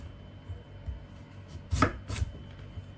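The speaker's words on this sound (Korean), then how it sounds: "2-3cm 두께로 무를 썰어 주신 다음에" A knife chops radish for pickled chicken radish, a few soft taps and then two sharp, close chops on a cutting board.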